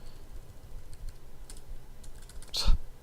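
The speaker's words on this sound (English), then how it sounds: "I'm not even typing well here." Computer keyboard typing during Python programming, soft scattered key clicks through most of the stretch with a louder cluster of strokes near the end, close and alone.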